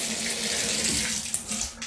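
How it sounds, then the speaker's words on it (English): Steady stream of water running from a shower tap in a bathroom, loud and continuous for two seconds, with no voices. "So you come to the shower and you turn on the water for a couple seconds."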